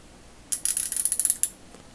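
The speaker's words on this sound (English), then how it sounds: "It switches, you can hear the pronounced click." A Champion Plug-Master II (New Britain) CT-451 ratchet is switched in direction, producing a quick run of about a dozen sharp, crisp clicks up close, lasting roughly a second before falling quiet.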